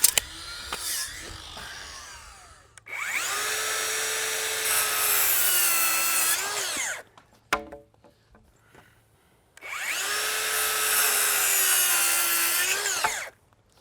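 Two long, steady whirring bursts of a power driver sinking 3-inch screws into a wooden shed roof, each lasting several seconds, with a brief click and a quiet gap between them; no talking.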